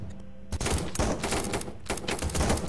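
Rapid, dense gunfire rattles in a zombie survival game, a loud continuous volley of shots with brief gaps, close and overpowering.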